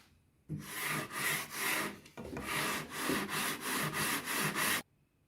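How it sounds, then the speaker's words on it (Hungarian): Sandpaper rubs back and forth along the wooden trailing edge of a balsa model aircraft wing, in about ten quick, even, close strokes with a brief pause midway, loud and with no voices. "Kilépőnek az élét kell megcsiszolni"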